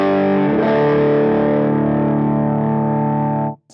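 An electric guitar chord rings out through an EP Booster pedal into a slightly overdriven amp, a single loud sustained strum that holds steady for about three seconds before being cut off.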